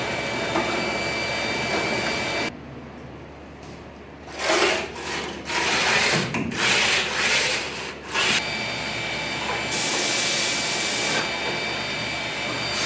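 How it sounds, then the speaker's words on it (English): A homemade wire brush scrubs rust inside the driver's side rear torque box of a 1965 Thunderbird convertible, giving steady loud rasping bursts with brief pauses, close and harsh, with no talking. "I also have that wire brush that I made for cleaning frames, and I'm going to go at it right now."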